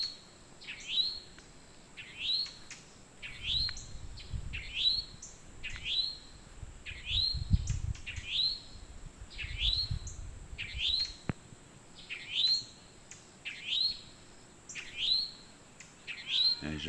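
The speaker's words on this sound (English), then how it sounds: "There's a wren." Songbirds including a towhee and a wren call outdoors, a short rising chirp repeated about every second and a half, clear and fairly close, with faint rustling and background noise underneath.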